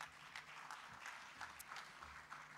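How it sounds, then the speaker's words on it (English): Faint, distant applause from an audience at a fintech festival in Nairobi, a low wash of scattered clapping for a panel speaker with no other sound over it. "A round of applause for him."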